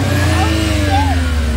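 A car engine with a legal exhaust, not straight pipes, revs loudly and steadily up close in a deep, continuous drone.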